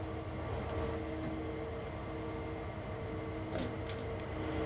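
A freight train on Cajon Pass in Train Sim World 3 produces a quiet, continuous low rumble with faint mechanical hum, steady and unbroken, with no talking.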